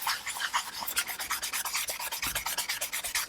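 Repeated hand sanding of a resin 3D-printed visor with sanding pads, a steady rhythmic scratchy rubbing of strokes in quick succession, close and fairly quiet.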